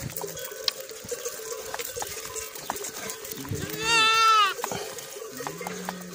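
A young goat kid carried in a saddlebag bleats for its mother in one loud, wavering cry near the middle, set against rural outdoor background noise with a faint bell-like clinking and low rustles.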